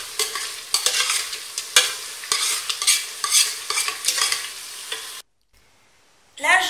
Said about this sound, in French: je continue à mélanger constamment pendant 2 minutes jusqu'à ce que les mélanges de sucre se diffusent correctement dans la sauce